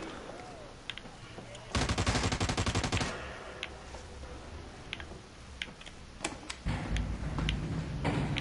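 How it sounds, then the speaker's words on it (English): Rapid rattling gunfire bursts from a video game firefight where flashbang grenades are going off, with dense stuttering volleys separated by quieter stretches and scattered sharp cracks, while a voice speaks in between. "And a lot of flashbangs."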